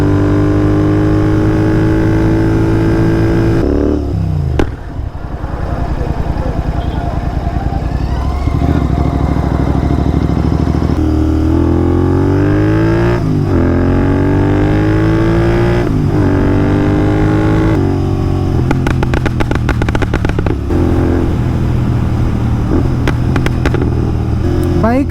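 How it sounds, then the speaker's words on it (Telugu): Royal Enfield GT 650 twin-cylinder motorcycle at speed, its engine roaring loudly with repeated rising and falling revs and sharp blips through gear downshifts, heavy wind rush throughout. "గేర్ డౌన్ షిఫ్ట్ చేసినప్పుడు అయితే మాత్రం నెక్స్ట్ లెవెల్ సౌండ్ అయితే వస్తుంది."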